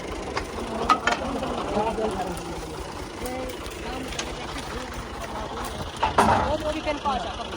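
A restored old Claas 8080 combine harvester engine runs steadily throughout at a wheat harvest, a continuous mechanical drone with a few louder bursts, while voices talk over it.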